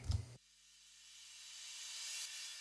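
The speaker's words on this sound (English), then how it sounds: "This exhaust effect here, which is just some white noise with some reverb and a reverse crash." A short low thump gives way to a hissing white-noise swell with reverb and a reverse crash, rising steadily in loudness like a rushing exhaust blast building up.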